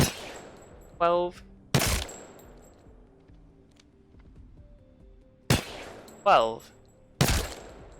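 Shots from an RE45 pistol in the video game Apex Legends: a handful of sharp, isolated reports spread across several seconds, mixed with rising electronic tones from the game, with a few brief spoken words.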